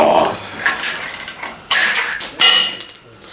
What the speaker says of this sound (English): That just broke the bolt.